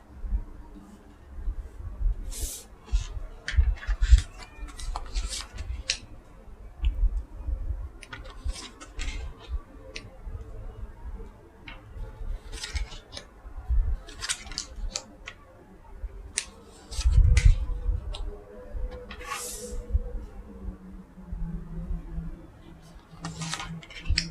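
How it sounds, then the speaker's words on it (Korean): Tarot cards being laid out on a table for a weekly reading, a run of light irregular taps and soft flicks with quiet pauses, close and clear. "자, 카드 나열 해보도록 할게요"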